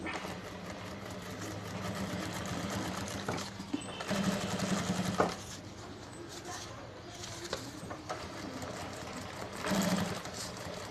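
A sewing machine stitches a handbag, running in a steady close motor hum with a few brief pauses and slight shifts in pace.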